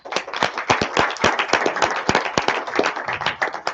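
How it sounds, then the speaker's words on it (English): A school audience at a Martin Luther King Day celebration claps for a student team, a few dozen hands producing loud, sharp, uneven claps that continue steadily for several seconds nearby. "Can we get a round of applause for Team 2,"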